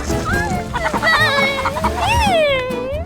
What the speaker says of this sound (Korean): 야생에서 벌레 먹고 자란 민첩하고 튼튼한 닭입니다